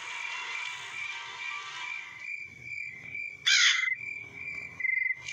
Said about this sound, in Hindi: भाई, ये तो क्रो है।